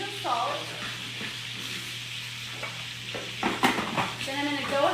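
A spoon works through almond flour batter in a bowl, producing soft rhythmic scraping and clinking close by, with brief voices speaking at the start and end.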